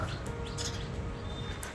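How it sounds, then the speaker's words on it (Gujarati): Sparrows coming to feed at a temple in the morning chirp in a few faint, brief notes. The calls sit over a loud, rumbling outdoor background. "ચકલા અને બધું આવી ગયું ખાવા."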